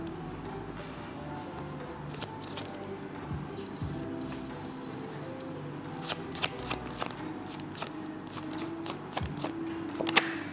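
Tarot cards being shuffled by hand in a steady run of crisp riffles and snaps, close and fairly quiet, with no talk over them.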